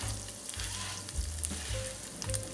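Rice and orzo roasting in oil for a Turkish baldo pilaf, a steady close sizzle and frying crackle with occasional stirring scrapes, no voices.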